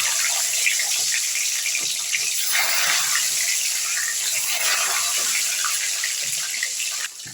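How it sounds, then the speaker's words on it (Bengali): Eggs fry in hot oil for a curry, giving a constant, loud sizzling crackle that fills the whole stretch without a break and drops off slightly only at the very end. "তেলটা গরম হচ্ছে আমি প্রথমেই ডিমগুলোকে দিয়ে দিচ্ছি"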